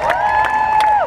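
An audience cheering for an Assembly delegation at a hometown heroes ceremony, a short burst of loud whistling and cheers with claps underneath.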